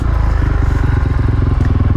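A dirt bike engine is held near idle during wheelie practice, throbbing in a steady, loud, close chug with rhythmic rises and falls as the throttle and clutch are worked.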